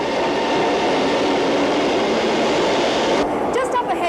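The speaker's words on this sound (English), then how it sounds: "From where I am, driving a train doesn't look all that difficult." A Singapore MRT train from 1987 runs with a loud, steady roar and rushing wheel noise from inside the carriage, easing slightly near the end.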